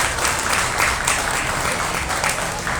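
Round of applause from the crowd at a county fair swine show, a dense steady patter of many hands clapping for a few seconds.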